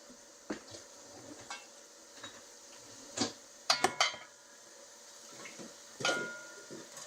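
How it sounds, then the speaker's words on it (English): Oil and garlic heating in a pan give a quiet sizzle, punctuated by several sharp clinks and scrapes of a utensil against the pan, close and intermittent. "I'm just basically letting the oil and the garlic heat up"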